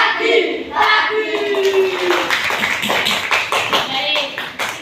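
Group of people clapping hands in rhythm while chanting a morning greeting in a classroom setting, repeated crisp claps mixed with voices calling out together.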